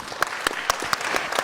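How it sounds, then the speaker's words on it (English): Conference audience applauding at an African economic forum on mobile money, a short burst of clapping with a few sharp distinct claps standing out over a steady patter. "Warm round of applause."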